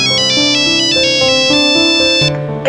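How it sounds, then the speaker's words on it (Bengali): A mobile phone rings loudly and close by with a bright melodic ringtone, a repeating pattern of electronic tones that plays alone for a few seconds before cutting off. "বলতে না বলতেই মায়ের ফোন চলে এসেছে।"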